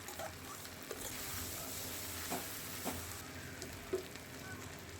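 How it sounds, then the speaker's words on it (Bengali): Grated elephant foot yam with black cumin being stirred in a hot pan, quiet continuous sizzle with occasional soft scraping knocks of a spatula, faint and close. "সমস্ত ওলটা দিয়ে নিয়ে একে ভালো করে নাড়াচাড়া করতে হবে"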